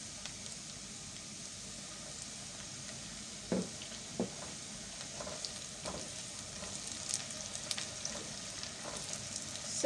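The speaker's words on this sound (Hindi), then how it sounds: "प्याज को हम तकरीबन 2 से 3 मिनट तक इसी तरह से चम्मच चलाते हुए भून लेंगे।" Onions and tomatoes frying in a pan, a soft continuous sizzle broken by occasional spoon scrapes and knocks as the mixture is stirred, with no talking.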